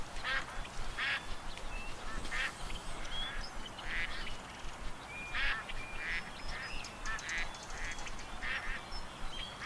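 Repeated nasal duck quacks from the video game Duck Dynasty sound in short bursts over a steady hiss, fairly faint and evenly spaced, with no talking.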